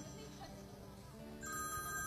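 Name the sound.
telephone ringing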